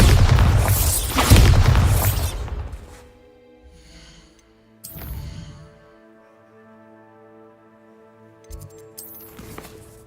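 A Bombarda explosion spell booms loudly in a Harry Potter game, with a broadband blast in the opening seconds and further sharp bursts around five and nine seconds over a sustained tonal game background.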